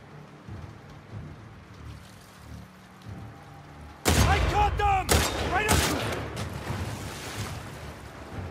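Rifle gunfire in The Last of Us Part II breaks out after a quiet stretch, with a few loud, close shots and echoing bursts followed by a lingering din.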